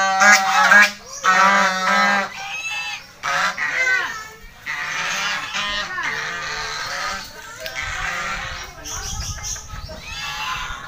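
Geese honking loudly near a river in a rural setting, repeated harsh nasal calls in overlapping bursts, close up, with occasional speech nearby.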